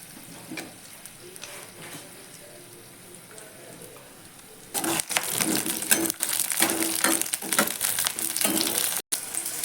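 Chopped onions hit the pan for chilli paneer and start frying, a quiet background giving way to a loud, steady hiss and crackle that runs on through the rest of the clip.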